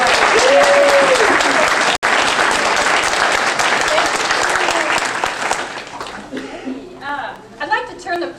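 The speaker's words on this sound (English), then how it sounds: "So I'd like you to clap your hands for" Graduation audience applause after a rigorous eight-month program, loud sustained clapping for several seconds that fades as a voice begins speaking near the end.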